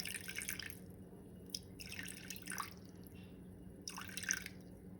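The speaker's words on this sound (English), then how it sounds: "we're going to add 120 grams of water" Water is poured into a container on a kitchen scale, 120 grams measured for a sourdough starter, in a few short, faint splashing bursts separated by quiet pauses.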